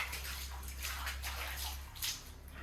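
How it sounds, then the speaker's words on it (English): Freezing cold water pumped from a drilled well splashes as someone washes their face, soft sloshing and trickling over a low steady hum. "I wash my face with freezing cold water pumped straight from the drilled well."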